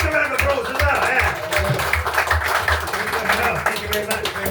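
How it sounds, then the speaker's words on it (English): A pub crowd at the White Horse in Clun applauds the MC, steady close clapping that continues under someone talking. "Give Nick a round of applause as well,"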